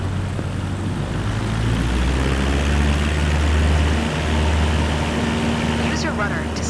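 A light airplane's engine in Microsoft Flight Simulator 2024 roars steadily at full takeoff power, a loud sustained drone with a deep low hum that swells slightly as the run continues.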